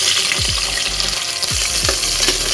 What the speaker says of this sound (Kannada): ಸಾಸಿವೆ ಇದ್ದೀನಿ ಈರುಳ್ಳಿ ಹಾಕ್ತಾ ಇದ್ದೀನಿ